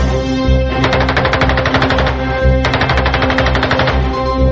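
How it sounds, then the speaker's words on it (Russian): Rapid bursts from the ShKAS machine guns of a Polikarpov I-16 fighter plane, a very fast, loud rattle of shots, heard as two long close bursts with a short pause between them. "Вооружение И-16 состояло из двух пулеметов «ШКАС». Этот пулемет имел выдающуюся для того времени скорострельность – 1800 выстрелов в минуту."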